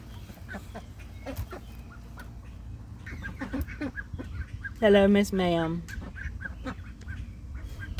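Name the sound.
hen vocalizing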